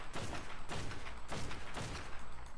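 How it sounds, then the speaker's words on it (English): Rockets fire in rapid succession from an Ascendant rocket launcher in ARK: Survival Evolved, a dense barrage of repeated heavy thumps and blasts at a steady rhythm, loud and continuous. "It probably takes about 40 rockets from an Ascendant rocket launcher."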